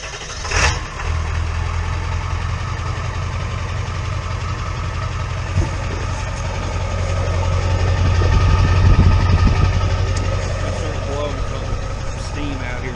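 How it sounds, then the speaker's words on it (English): A Ford Super Duty Powerstroke diesel truck engine running just after a cold start, a steady low rumble that swells louder toward the middle, with a brief bump near the start. "You want to do a cold start?"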